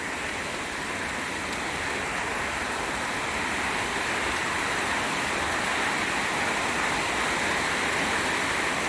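Steady rain pours down with strong wind over a village in Buriram province, Thailand, a continuous, even hiss of close, moderately loud rainfall with no breaks and no voices.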